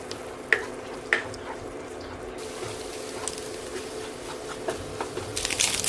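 Scrambled egg for egg fried rice fries in a pan over a medium flame with a close, steady sizzle. A few sharp clicks of a spatula stirring or scraping break through it, and the frying swells louder toward the end.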